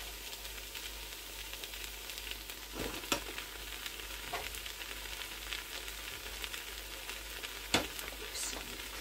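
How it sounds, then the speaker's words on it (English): Sweetcorn tipped into a Ninja 15in1 pot for a sweetcorn and gammon chowder sizzles steadily up close, with a few sharp clinks and scrapes of stirring breaking through the continuous hiss. "Now we're going to go in with our corn. We're putting all of this in."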